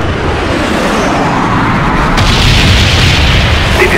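Incoming explosion in Call of Duty Black Ops: a loud, sustained broadband rumbling blast that swells and holds for several seconds, with no talk over it.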